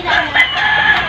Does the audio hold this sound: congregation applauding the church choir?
no